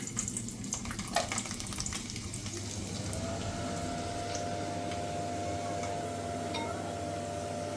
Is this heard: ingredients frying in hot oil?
yes